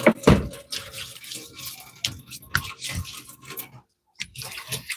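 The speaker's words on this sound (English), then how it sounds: "washing my hands" Hands are rinsed under a running kitchen tap after handling beef fat, with splashing water and small knocks in irregular bursts, a brief quiet gap near the end, and no talk.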